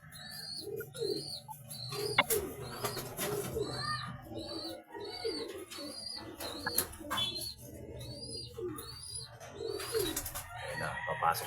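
Racing pigeons coo repeatedly on arrival at the loft after a Tacloban race, soft rolling calls layered with chirps and a brief wing flutter, fairly close, with faint voices and background noise underneath.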